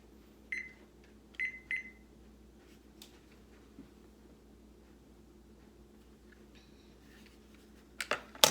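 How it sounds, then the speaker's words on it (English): A kitchen timer set to two minutes while making a boxed cake, giving short electronic beeps in a few separate presses. The beeps are faint and widely spaced in a quiet kitchen, with some handling clatter at the end. "we'll set our timer for 2 minutes."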